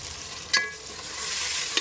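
Yogurt is stirred into sizzling chicken biryani masala in a pan: a continuous close frying hiss with two sharp scraping stirs of the spoon, one early and one near the end.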